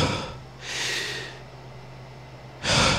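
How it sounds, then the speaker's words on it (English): An out-of-breath man takes three heavy, audible breaths close to the microphone, each a rough gasp or huff separated by short quiet pauses. "now that I'm talking and not actually breathing, I can't breathe. So let me breathe."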